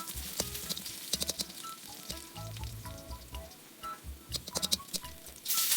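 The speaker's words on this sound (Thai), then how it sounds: "นำกระเทียมลงไปเจียวให้มันหอมเหลือง" Garlic frying in about a tablespoon of oil in a pan over medium heat, a crackling, popping sizzle with irregular spatters and light utensil taps close by.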